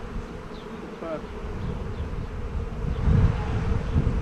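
A dense, steady drone of many Buckfast honey bees buzzing close by at a hive, swelling slightly louder toward the end.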